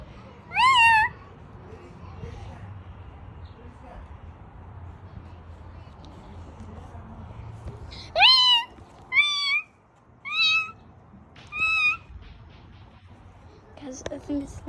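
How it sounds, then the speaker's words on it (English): A young pet kitten found in a backyard meows close by, one cry near the start and then a run of four high, rising meows a few seconds apart, with quiet background sound between. "it's our pet cat"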